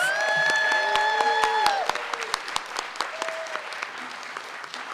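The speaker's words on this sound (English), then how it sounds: "Let's give a round of applause to our high school speakers." An audience claps for high school speakers at a soapbox speech finals; the applause is full at first, then thins into scattered claps, with tonal sustained notes ringing above the crowd.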